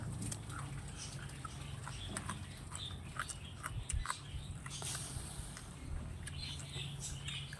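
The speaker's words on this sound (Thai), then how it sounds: "ฝนตกแล้วเนี่ย" Steady rain patters all around, a dense wash of soft drips with scattered sharper ticks and a low hum underneath.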